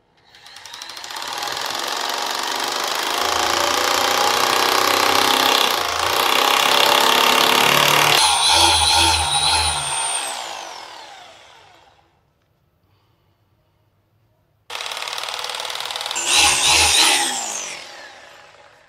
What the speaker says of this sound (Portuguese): Observa que eu estou com a furadeira o mais reto possível